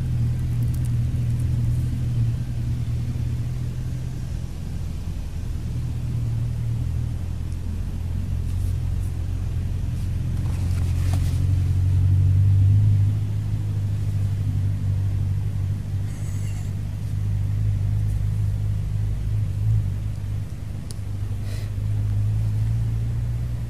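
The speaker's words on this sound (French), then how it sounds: "Attendez, je me cache, une bagnole qui arrive." Car approaching along a road and driving past, a steady low rumble that swells gradually to a peak in the middle and fades again, heard from inside a parked van.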